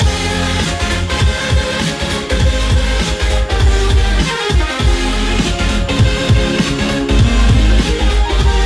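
Loud music blasts from a speaker with heavy, punchy bass and dense beats throughout, filling the space without pause.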